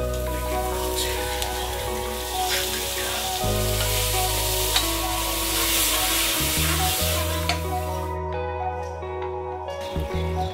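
Mutton cooks in a pan with a loud, continuous frying sizzle, nearby and unbroken, and a steady tonal hum runs underneath for most of the stretch.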